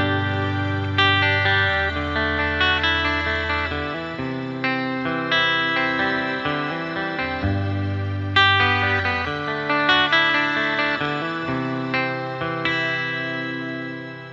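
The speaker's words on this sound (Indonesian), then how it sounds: "Kita cobain dari memakai pickup bridge ya, jadi dengan settingan reverb yang cukup tebal." An electric guitar on the bridge pickup plays through a TC Electronic Fluorescence shimmer reverb set thick, chords ringing out with a lush, octave-shimmering wash that sustains between strums, loud and alone.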